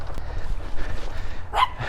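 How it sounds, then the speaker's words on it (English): A small puppy gives a few short yips and barks close by, quick and high-pitched, with brief gaps between them. "What a cute little puppy."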